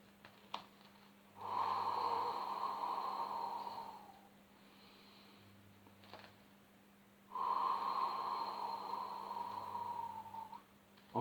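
Deep, audible breaths in and out during a Pilates exercise, two long airy exhalations separated by quieter pauses, close to the microphone with a soft background hum.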